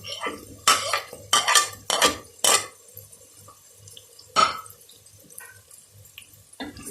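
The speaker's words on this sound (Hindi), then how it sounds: "मैं टमाटर डालने लगी हूँ।" Tomatoes go into a cooking pot for a bhindi gosht masala, with several loud clanks of utensils against metal, wet splatters and scraping, then quieter stirring clatter close by.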